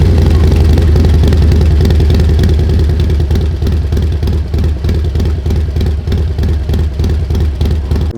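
A Harley-Davidson Low Rider S with a modified exhaust runs loud and close, a deep, steady, throbbing engine note with a fast pulsing rumble that holds almost unchanged throughout.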